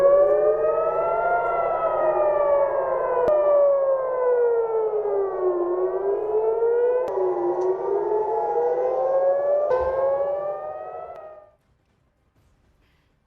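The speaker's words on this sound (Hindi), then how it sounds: "जहां पर आप सायरन सुन लीजिए, ये खतरे का सायरन है।" An air raid warning siren in Tel Aviv wails steadily, its pitch rising and falling in slow sweeps, loud and alone before cutting off into near silence.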